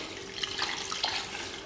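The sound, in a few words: water being poured into pot for biryani rice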